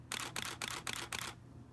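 A Canon 6D's mechanical shutter fires five times in quick, even succession, each a crisp close-up clack, followed by quiet.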